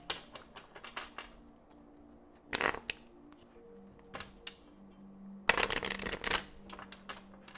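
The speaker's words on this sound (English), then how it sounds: "Maybe 3 shuffles, and then I'll take the card from the bottom of the deck and the card from the top of the deck for clarification here." A deck of tarot cards is shuffled in quick papery riffles and bursts of flicking, with several close, distinct shuffling passages separated by short pauses and no speech.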